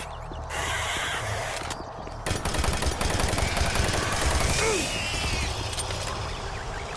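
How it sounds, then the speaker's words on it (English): A machine gun fires in Doom 3 as a dense, rapid rattle of shots that starts after a short pause and runs on, close and loud, amid other game noise. "Man, the machine gun is bad if you aren't shooting something in the head."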